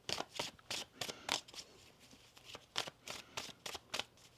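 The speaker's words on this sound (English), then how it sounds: "One more shuffle." Tarot cards are shuffled in quick riffling bursts, about a dozen crisp, close, fairly quiet flutters in an irregular rhythm, with no talk.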